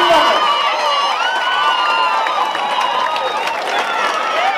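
A choir festival audience in Almelo applauds and cheers the winning choir, with a dense, sustained crowd roar, clapping and voices calling out close by.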